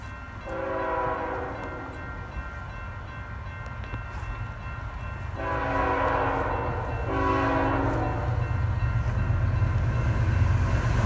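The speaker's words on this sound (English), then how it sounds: "this train came. It was the empty of Friday's train, with ET44AC 2658 and SD70 ACE 8318 leading." Freight train led by an ET44AC and an SD70ACE locomotive arriving at a crossing, sounding repeated horn blasts over a steady rumble of the approaching train that grows louder.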